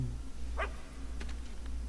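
A single short bark from a dog in the video game Fable 2, heard over a low steady hum and followed by a few faint soft clicks.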